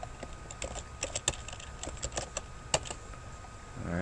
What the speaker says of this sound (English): You can just type it in here, Edie